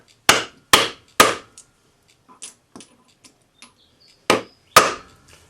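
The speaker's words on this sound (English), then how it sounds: "Use the rawhide hammer is good enough. We just want to dome it just enough that it has a nice shape" A rawhide hammer domes a threepence coin on a block. Several sharp, fairly loud strikes come in an uneven rhythm, with quieter taps and small knocks between them.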